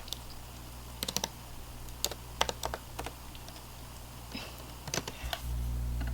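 Short clusters of keystrokes tap on a computer keyboard up close, quick bursts of clicks separated by brief pauses over a quiet room hum, with no talking.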